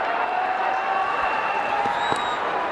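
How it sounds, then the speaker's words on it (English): Karachi Kings fans roar at a PSL cricket eliminator against Islamabad United, a steady, dense crowd cheer filling the stadium with scattered whistles and horns rising above it. "And listen to the crowd. Karachi fans have found their voice here."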